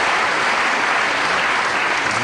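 An audience at a 2013 Paul Hunter Classic snooker match applauds, a loud, dense, even wash of clapping that holds steady throughout.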